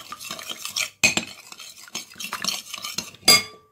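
A utensil stirs and scrapes potatoes mixed with salt, garlic, mustard and spices in a metal bowl, a close run of clinks and rubbing strokes with short pauses and a sharper clank near the end.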